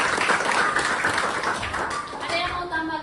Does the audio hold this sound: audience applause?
yes